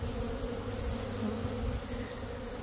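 Honey bees buzz steadily around a queen rearing frame, a dense, continuous hum close by with no talking.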